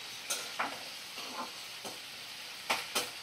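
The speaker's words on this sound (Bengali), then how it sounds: "তো দেখো আমি কিছুক্ষণ একটু ভাজা করে নেব, 2 মিনিটের জন্য ভাজা করে নেব।" Sliced onion and potato frying in a pan for a non-vegetarian ghugni, heard as a faint sizzle with several sharp scraping stirs of a spatula at irregular intervals.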